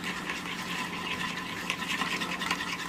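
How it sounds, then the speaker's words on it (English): A spoon stirs a small dry mix of salt and ground white pepper, giving a faint, steady scratchy rustle close by with no voices. "I'm just going to stir this to give it a little whisk."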